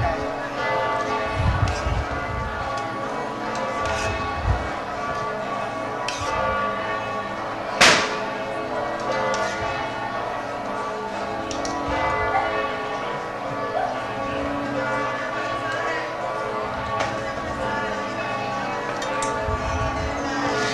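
Church bells ring steadily with layered tolling tones, under murmuring voices and background bustle at an outdoor food festival in San Daniele, Friuli, with one sharp thump partway through.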